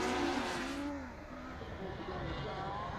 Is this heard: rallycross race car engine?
yes